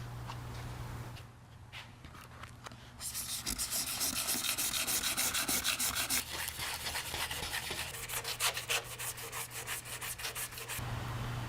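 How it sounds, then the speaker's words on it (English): Sanding scuffs the body of a Sprinter van with steady, rhythmic back-and-forth strokes, loud and close, after a brief quieter start with a low hum. "let's go ahead and sand the body of the van."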